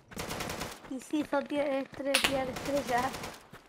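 Gunfire in the Deadside shooter video game cracks in quick bursts and single shots mixed with someone speaking Spanish over them, the loudest burst landing about two seconds in.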